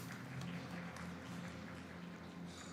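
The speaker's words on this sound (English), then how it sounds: "Tammy clapping, applauding her student" Faint, steady clapping rises from an ice rink at the ISU Junior World Figure Skating Championships in Tallinn as a coach applauds her skater after his men's short program, continuous and low against a hum of arena noise.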